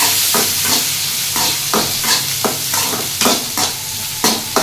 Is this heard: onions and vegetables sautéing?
yes